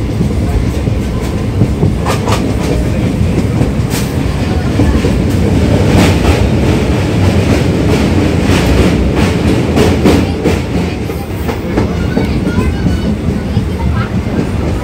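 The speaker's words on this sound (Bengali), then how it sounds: "ট্রেন আমাদের ঢুকছে কামারকুণ্ডু জংশন" A local train pulls into Kamarkundu junction in West Bengal, a loud continuous rumble with rhythmic clickety-clack of wheels over rail joints and sharp metallic knocks throughout, heard close up from on or beside the train.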